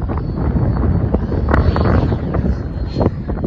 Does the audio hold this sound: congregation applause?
no